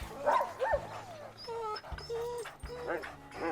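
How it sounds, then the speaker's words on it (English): Buck, a sled dog, gives a run of short yips, whimpers and barks at close range, loud and excited in quick bursts, with people talking around him. "That's our new lead dog."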